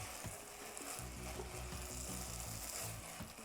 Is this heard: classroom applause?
no